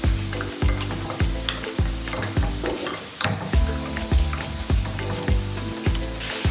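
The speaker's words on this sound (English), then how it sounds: "And I'm gonna mix everything together." Goat mutton stirred into a biryani mix in a pan, a spoon scraping in a regular rhythm about twice a second over a continuous sizzle, close and fairly loud, no talking.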